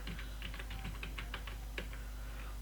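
Keys tapped in quick irregular bursts on a computer keyboard while entering an ID card number into an online e-stamp paper form, soft and close, with no talking.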